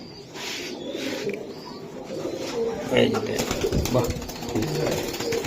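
Budapest pigeon chicks at a pigeon farm give soft coos and rustling bird sounds, close and steady, against a busy background of voices and occasional clatter.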